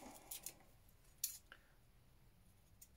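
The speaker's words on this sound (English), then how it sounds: "Snip that off." A couple of quick, crisp snips from scissors cutting paper trim, fairly close, with a short gap between cuts against a quiet background.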